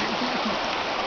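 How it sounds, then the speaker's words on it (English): A stream in Cherokee, North Carolina runs steadily in a close, continuous broadband rush of water with no voices. "It's the water."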